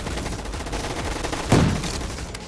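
Gunfire in the shooter video game Gun Fight Arena: a steady wash of game sound with a single sharp, loud shot burst midway, followed by a decaying tail.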